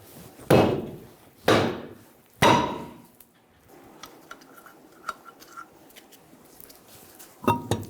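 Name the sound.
hammer hitting the back of a stuck wheel rim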